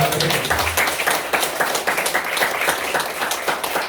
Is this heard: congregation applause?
yes